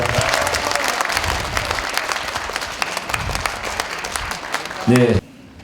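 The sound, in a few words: audience applause at a parliamentary report meeting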